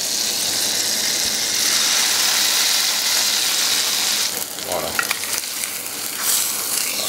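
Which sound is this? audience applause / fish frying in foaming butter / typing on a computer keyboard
fish frying in foaming butter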